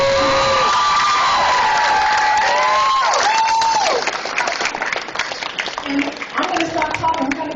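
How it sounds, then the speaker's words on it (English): An audience at a songwriters' panel event applauds the panelists; a voice and tonal sounds ring out first, then a crowd of clapping, cheers and whoops builds up, with talking mixed through it. "let's please give a resounding round of applause for all of our panelists"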